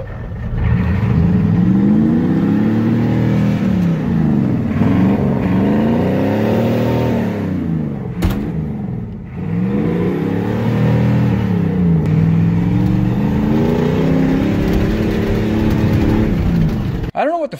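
A 1984 Ford engine revs hard again and again at a car show, the pitch sweeping up and falling back in a loud, close, continuous run with only one brief dip.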